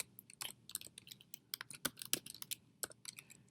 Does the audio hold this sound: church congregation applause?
no